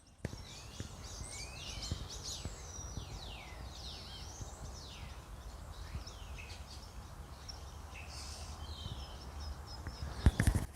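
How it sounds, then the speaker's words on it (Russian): Many birds chirp and twitter in the evening in quick, high bursts across a quiet outdoor backdrop at Ria de Alvor in the Algarve, Portugal, some calls nearer, others distant, with a few soft knocks near the end. "Слышно ли вам щебетание птиц?"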